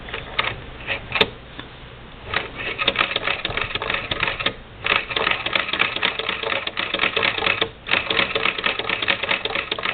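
A Singer Model 20 toy sewing machine stitches a quilted placemat, producing a fast, rhythmic mechanical clatter close by, with a couple of brief pauses in the run.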